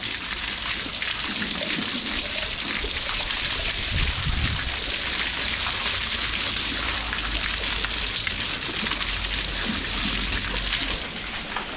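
A shower runs with sulphurous water, giving a steady broadband hiss and patter of falling spray that stays close and even throughout, with a faint low rumble beneath and a slight drop near the end.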